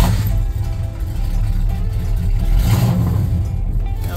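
A 1971 Ford F250 truck engine with a small exhaust leak runs close by with a deep rumble, rising briefly in a short rev before settling back to a steady drone.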